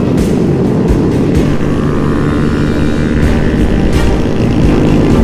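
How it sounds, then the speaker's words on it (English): A police helicopter chasing a stolen vehicle stays overhead as a loud, steady engine and rotor roar, blended with road and wind noise throughout. "we're still being chased by the chopper"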